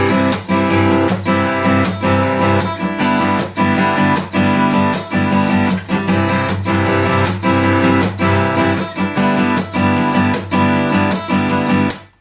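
Acoustic guitar strummed in a steady rhythm, full chords ringing out loud and close throughout, with no voices; a G barre chord variation from a song.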